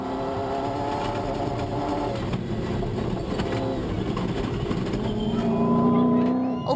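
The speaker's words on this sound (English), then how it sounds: "another BMW, this one belonging to Henny de Klerk and Johan Smallberger in their first Toyota 1000 Desert Race, going strong" A BMW race car competing in the 2013 Toyota 1000 Desert Race drones loudly with a sustained engine note that shifts pitch and rises toward the end, close and continuous with a voice talking over it.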